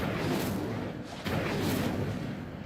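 Incendio fire spell cast in Hogwarts Legacy: a loud, sustained roaring whoosh of flame with a brief surge partway through, dense and continuous throughout.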